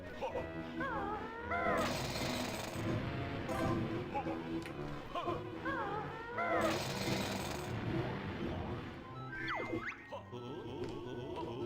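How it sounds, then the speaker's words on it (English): Drilling through mounds of dirt in the video game Banjo-Tooie: steady mechanical rattling churn under game music and character chirps, with a person talking over the dense game audio. "drill these mounds of dirt"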